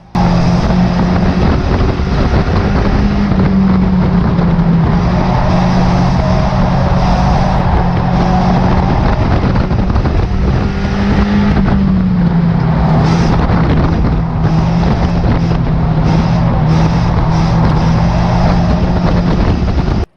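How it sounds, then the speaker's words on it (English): A stock car engine heard from onboard during an oval race screams continuously and loudly for the full stretch, its pitch rising and falling as it climbs the rev range, with heavy wind and road roar. "from the onboard footage you can hear how much higher my dad's able to get up the rev range"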